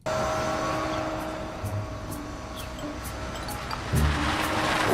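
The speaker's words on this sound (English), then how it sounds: "I'm about to go for my first ever ride in a fully autonomous vehicle." Cabin of a Waymo fully autonomous driverless car on the move: a steady, close road and engine hum with a faint whine, a brief low bump near the end, and no voices.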